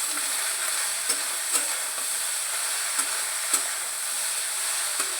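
Cauliflower stem curry with winter vegetables being stirred in a pan: a steady bright sizzle with a few sharp spatula clicks spaced about a second apart, close and alone.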